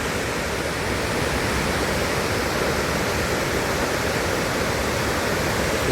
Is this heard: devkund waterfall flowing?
yes